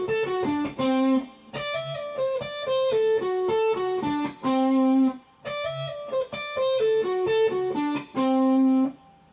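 Distorted electric guitar picks out the chord tones of a D dominant 9th chord in a blues line, with short descending note runs and held notes repeating in two similar phrases, no talk.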